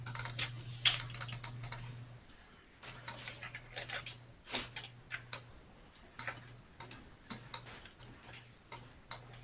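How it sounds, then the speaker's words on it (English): Sharp clicks from a computer keyboard rattle in quick clusters and pauses, close and loud, over a faint steady low hum. "Someone's clicking really loud."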